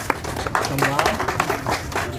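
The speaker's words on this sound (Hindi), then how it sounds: "ताली हो जाए।" Students in a coaching class for Bihar police exams break into a short burst of group clapping for a topper, the claps dense and mixed with voices talking.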